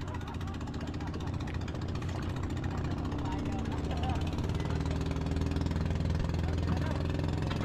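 A strong engine, started with a single pull, runs at a steady idle, a close, even low thrum with a rhythmic pulse that holds throughout, and voices are heard faintly over it.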